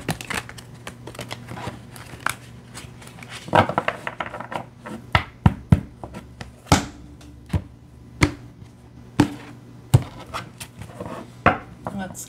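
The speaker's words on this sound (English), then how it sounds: "Okay, one more shuffle." Tarot cards being shuffled by hand in a reading, heard as a run of crisp, irregular riffs and taps, some sharp and close, over a low steady room hum with no talking.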